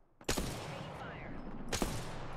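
Video game firefight with a loud burst of gunfire, a second volley about a second and a half later, and sustained shooting noise between the bursts, with no voices.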